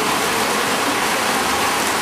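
Heavy rain pours down in Nakhon Si Thammarat, Thailand, in a dense, steady hiss, loud and close, with no other sounds standing out.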